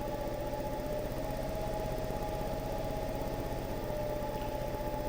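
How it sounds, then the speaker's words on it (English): A wood lathe spinning elm at roughly 800 to 1000 RPM hums with a steady mechanical drone and faint rhythmic vibration, continuous and even throughout, with no one speaking. "the lathe start to shake a little bit. Now I'm at 800 RPM"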